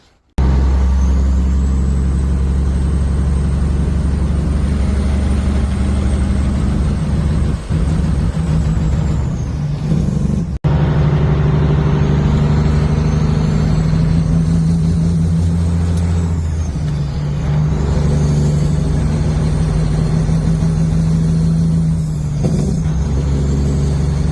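A truck engine with a failing camshaft position sensor runs rough at idle, a steady loud low rumble with uneven lurches and a brief dropout partway through, no talk.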